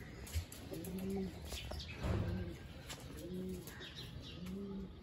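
A pigeon pair, a white female and a brown male eating grain, coos in soft repeated low phrases about once a second, close by, with a brief flutter or scuffle near the middle and faint chirps behind.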